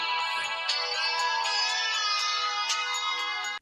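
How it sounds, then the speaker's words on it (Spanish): A mobile phone ringtone plays a bright, steady electronic melody with repeating notes for several seconds, loud and close, with no talking over it. "¿Qué sonido tienes en el móvil?"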